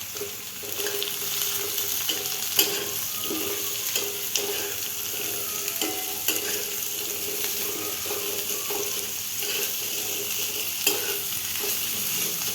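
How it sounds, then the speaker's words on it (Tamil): Onions frying in melted butter for paneer butter masala, a steady close sizzle with scattered stirring scrapes and clicks from a spoon against the pan, and no talk. "வெண்ணெய் நல்லா உருகி எடுத்து இப்போ வெங்காயம் போடப்போம்."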